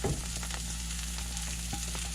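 Food sizzles steadily in a hot pan, a constant close crackle with a few faint scrapes and no voices.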